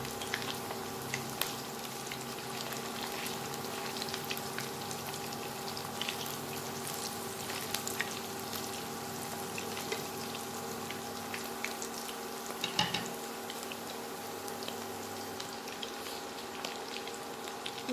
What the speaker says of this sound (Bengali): ডিমগুলো আমার লাল করে ভাজা হয়ে গেছে